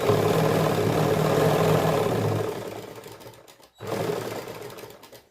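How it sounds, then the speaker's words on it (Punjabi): A sewing machine stitches a double seam on a suit, running in a fast steady whir that slows and stops, then restarts briefly at close range. "ਇਹਦੇ ਵਿੱਚ ਆਪਾਂ ਡਬਲ ਸਲਾਈ ਲਾਉਣੀ ਆ"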